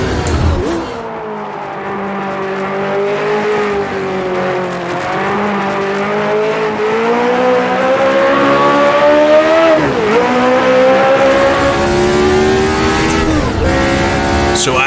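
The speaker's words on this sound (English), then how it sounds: "out of the pits, we got the great sound of the V8 DFE behind me" A V8 Ford-Cosworth DFV Formula 1 engine in Automobilista 2 pulls out of the pits and howls continuously, rising and falling through gear changes at near, loud level, with a faint voice underneath.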